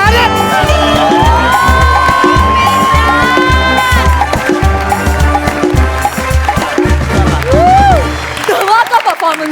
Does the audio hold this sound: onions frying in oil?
no